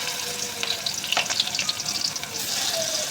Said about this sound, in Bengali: এবার এটাকে গরম তেলের মধ্যে এই যে ছেড়ে দেওয়া হচ্ছে।